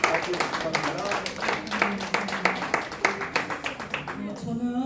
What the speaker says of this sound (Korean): 여러분들 뜨거운 박수로 한번 맞춰주시기